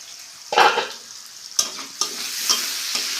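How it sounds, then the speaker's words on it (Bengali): Mushrooms fry in a pan with a steady close sizzle, broken by several sharp scraping stirs of a spatula. "মাশরুমটা একটু ভাজা ভাজা হয়ে গেছে আমি আরেকটু ভাজা ভাজা করে নিয়ে"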